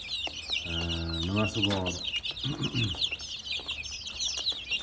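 A flock of one-month-old chicks chirping, a dense continuous twitter of high peeps close by, with a voice talking briefly over them.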